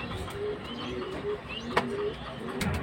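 Pigeons of high-flying breeds kept for sale coo close by. Low, repeated rolling coos sit over a constant hum, and a single sharp click stands out partway through, with no talking.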